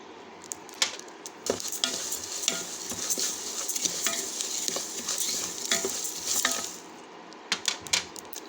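Mustard seeds frying in a pan with reduced heat for amla masala powder, a soft close sizzle under repeated utensil stirs and scrapes, with sharper clinks at the start and end.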